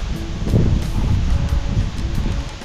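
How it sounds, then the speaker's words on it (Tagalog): Strong wind blusters into the microphone with a low, rumbling roar, and leaves rustle throughout. Nobody speaks. "Malakas yung hangin."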